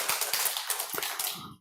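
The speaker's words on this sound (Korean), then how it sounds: "우리 박수합시다" Brief clapping from a small church congregation, a quick scatter of hand claps at close range that thins out and stops after a second or two.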